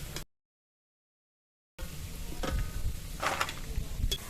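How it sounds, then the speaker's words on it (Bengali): Small palm fruit fritters (tal bara) fry in hot oil, a faint steady sizzle with soft bubbling, broken by a short silent gap early on. "এরকম ছোট ছোট করে দিয়ে ভেজে নেব"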